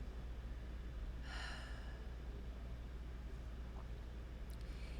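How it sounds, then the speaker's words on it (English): A single deep exhale during a guided breathing exercise, a soft breathy rush lasting about half a second near the start, then quiet room tone with no talking. "And then exhale, really letting go, really surrendering, really being quiet."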